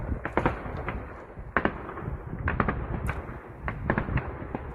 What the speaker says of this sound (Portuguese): Parece principalmente disparos de defesa antiaérea tentando atingir talvez um drone.